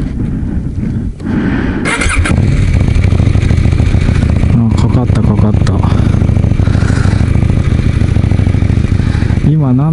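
A KTM 790 Duke motorcycle engine cranks and fires up close by, settling into a loud, lumpy idle with rapid pulsing and a couple of revs, while a person speaks over it.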